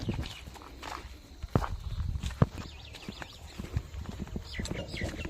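Cattle walking along a farm path beside maize fields, hooves thudding and clopping irregularly over soft ground with scattered heavier steps, fairly close and moderately quiet.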